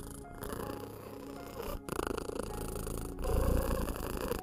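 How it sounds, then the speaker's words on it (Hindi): A cat purrs steadily up close, a soft rhythmic rumbling with brief pauses between breaths, growing slightly louder toward the end. "ये कैट की पर होती है। कैट्स की परिंग इंसान के लिए बहुत स्पेशल है।"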